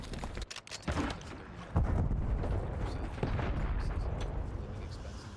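Archangel killstreak barrage from Call of Duty Black Ops 6, a dense roar of explosive fire with sharp booming hits that starts at once and keeps up steadily, a voice briefly heard over the din.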